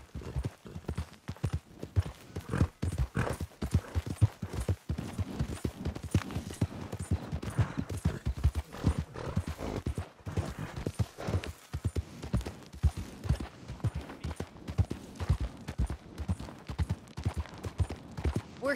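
Steady clip-clop of a horse's hooves while riding horseback in Red Dead Redemption 2, a continuous rhythmic trot sounding close and fairly loud, with no talking over it.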